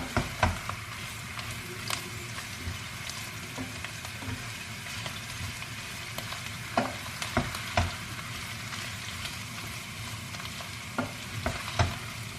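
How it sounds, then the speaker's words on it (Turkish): Minced meat for a spinach dish fries in a pan with a steady close sizzle, punctuated by irregular scraping knocks of a spoon stirring and turning it. "Yemek yaparken mutlaka kıymayı kavurun arkadaşlar."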